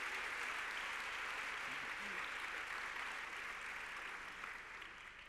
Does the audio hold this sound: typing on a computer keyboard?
no